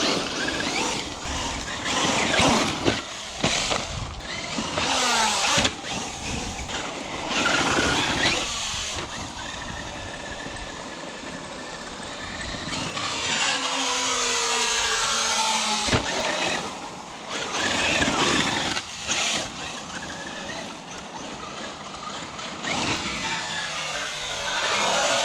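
A UDR RC car drives over dusty ground, its motor whining and rising and falling with throttle while tires scrabble and gravel crunches, the buzzing pitch shifting as it speeds up and slows down nearby.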